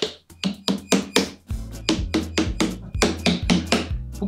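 Knuckles rap on a melon to check ripeness, a run of sharp hollow knocks about twice per second, close and loud, with deeper thuds in the second half and no talk over them.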